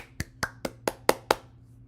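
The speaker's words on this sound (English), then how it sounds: "That was a round of applause if you missed it." Six sharp, evenly spaced hand claps, close and dry, over a low steady hum, with no one speaking.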